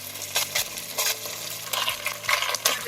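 Ginger garlic paste sizzles in hot oil with browned onions for beef pasanday, stirred in a pan with soft, repeated scraping strokes over a steady low frying hiss.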